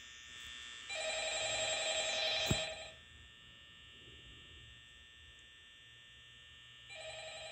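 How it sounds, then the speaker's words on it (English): A telephone rings in the Five Nights at Freddy's video game: a loud electronic bell-like trill sounds for about two seconds and then cuts off. After a quieter hum it starts again near the end. "Okay, now there's gonna be a phone call."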